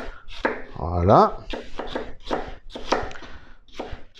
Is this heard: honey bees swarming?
no